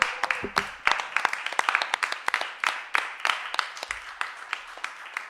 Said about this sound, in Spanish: Un aplauso para todas las compañeras que nos siguieron